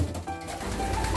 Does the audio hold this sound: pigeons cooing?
yes